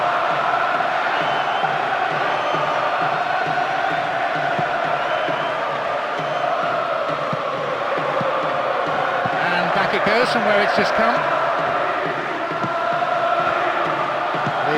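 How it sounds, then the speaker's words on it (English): A stadium crowd in the PES 2009 football video game keeps up steady rhythmic chanting, a continuous massed roar running under a commentator's voice. "The rhythmic chanting of the crowd, so many of them on their feet, it's giving this a unique flavour."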